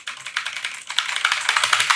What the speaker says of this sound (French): Là, petit clavier mécanique. Écoutez ça.